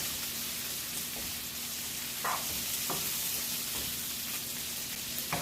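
Potatoes fry in bacon fat in a pan, a steady close sizzle with a few scraping stirs breaking through at intervals, no voices.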